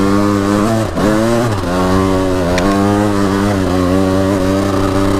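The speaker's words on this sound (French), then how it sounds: "j'accélère comme un bâtard pour que ça avance" A vehicle's engine revs hard and sustained at Londinière, pitch climbing and dipping as the rear end fails to grip on greasy ground, loud and close throughout.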